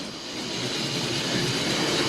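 Old OO gauge model train engine, run at high power while pulling two bulky coaches, giving a steady loud motor whir and hum that builds slightly, alone without voices.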